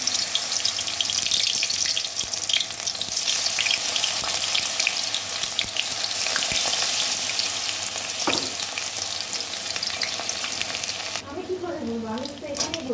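Water lily fritters sizzle and crackle in hot oil, a dense steady hiss throughout, with a brief voice near the end.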